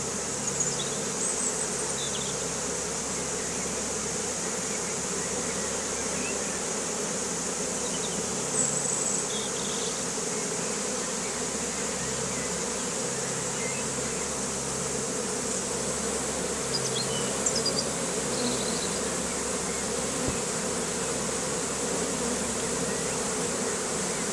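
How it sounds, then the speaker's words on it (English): A dense, steady buzzing of a honeybee swarm being rehomed fills the air, a continuous drone that stays even and close throughout with no voices. "Some bees seem to be quite static while the other ones are making their way up faster."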